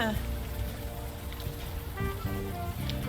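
Steady rain falls in a game scene set in the Unavowed world, a continuous hiss of drops on surfaces, loud and close, with faint tonal game sounds drifting over it.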